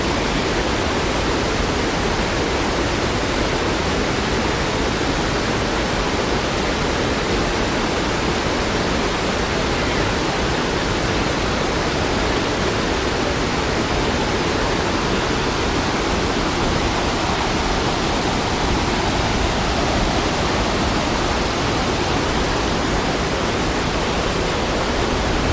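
Loud, continuous rushing of a stream pouring over natural rock waterslides near a waterfall in tropical Queensland, Australia, a dense, unbroken roar with no voices.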